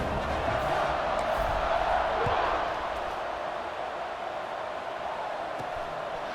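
Stadium crowd in a college football video game, NC State hosting Maryland on wet turf, roars steadily at kickoff, a broad continuous wash of cheering that swells briefly early on and then holds at a slightly lower, even level.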